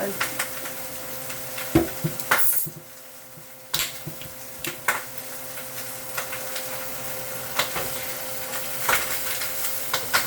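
Chicken feet adobo frying in a pan as Coca-Cola is poured in, giving a steady low sizzle under scattered clicks and clanks of stirring, with a brief hiss and lull near the start.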